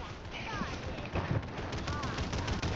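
Gunfire in the video game Warzone 3 during a Plunder match, a busy run of close shots and bursts over a constant loud game mix, with players talking over it.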